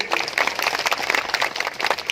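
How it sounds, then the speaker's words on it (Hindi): A crowd applauds at an outdoor birthday program for a state forest minister in Ashapur, with a steady, dense patter of many hands at moderate level filling the whole short stretch. "एक बार शिवराज जी के लिए ताली बजाया"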